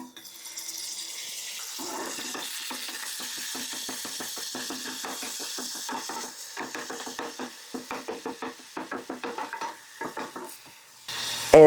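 Minced garlic sizzling and being stirred in hot oil: a soft steady fry with rapid scraping and stirring strokes that grow choppier toward the end, no speech.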